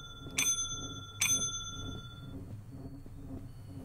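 A bell rings twice inside the horror video game Late Laundry, two bright, clear dings about a second apart over a faint low hum, each decaying quickly in an otherwise quiet room.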